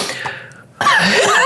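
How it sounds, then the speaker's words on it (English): A single sharp cough bursts out close to the microphone after a short fading vocal sound, followed by a raspy breathy tail. "got you coughing"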